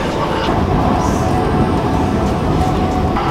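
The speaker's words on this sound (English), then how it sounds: "This is the ETS Platinum class, and this, the other one, the cheaper one, is the ETS Gold one." Inside an ETS Platinum class train in Malaysia, the carriage gives off a constant loud rumble and rolling hum, with no distinct voices above it.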